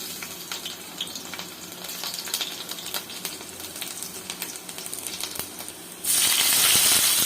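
Onions, green chilies and curry leaves fry in hot oil for a Telugu egg curry tempering, a steady close sizzle with scattered crackles and pops, which grows sharply louder and brighter over the final second.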